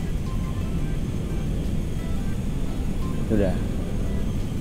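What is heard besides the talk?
Lockheed L-1011 TriStar airliner landing in GTA 5 video game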